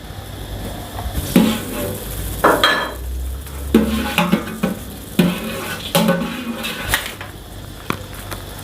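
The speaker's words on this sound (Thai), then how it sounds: "แล้วก็ใส่ชุดเครื่องเทศที่ผัดกับน้ำมัน แล้วก็ผัด" Spice mix being stir-fried in oil and butter in a large pot of chicken curry for 40 people, with a steady sizzle, a spoon scraping and clinking against the metal in repeated strokes, and a low background hum.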